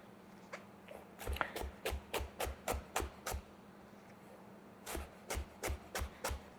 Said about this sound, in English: So I'm just gonna keep going by keeping my knife straight.